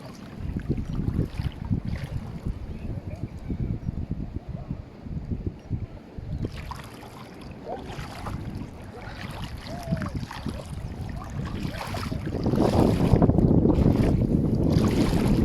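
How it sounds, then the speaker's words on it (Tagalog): Strong sea waves break on the shore at Lian, Batangas, rumbling and washing in uneven surges with buffeting wind against the microphone, building louder toward the end. "sobrang lakas ng alon."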